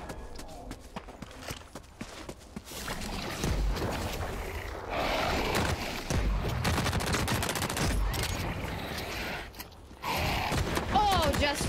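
Gunfire bursts from the motorcycle combat game Go Go Cycle Raiders crackle in dense, rapid volleys across most of the stretch, growing louder midway, with occasional voices talking over the action.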